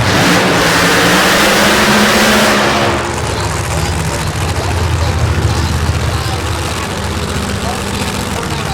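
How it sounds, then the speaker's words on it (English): The engine of a supercharged Chevrolet Corvette pro mod drag-race car at a Texas event roars loudly and close, with hard revving for about three seconds before settling into a rough, rumbling idle. "Supercharger underneath the hood or a muffler. Chevrolet Corvette."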